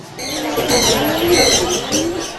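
Domestic pigeons at a Bangladeshi pigeon market or farm coo in soft, overlapping rolling calls, close and continuous, with a faint voice in the background.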